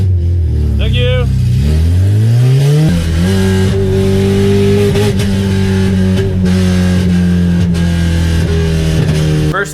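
Honda Civic drag car, a 10-second build, revving hard on a road course, its engine note climbing in pitch over the first few seconds and then holding a loud, steady high drone close to the mic, with a voice speaking briefly early on.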